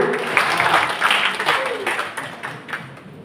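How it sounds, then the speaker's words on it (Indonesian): A short burst of applause from a small crowd at a school debate competition, scattered claps fading out over a few seconds. "Mungkin bisa tepuk tangan terlebih dahulu untuk kedua kubu."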